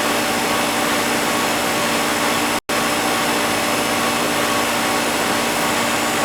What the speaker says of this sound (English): Gotta hit these coils on the way out with the hose.